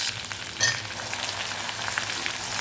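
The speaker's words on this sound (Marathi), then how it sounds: "मसाला आपल्याला असा छान परतून घ्यायचा आहे" Masala spices fry in hot oil with mustard seeds, cumin and asafoetida, a steady dense sizzle close up with a few sharper pops and stirring scrapes.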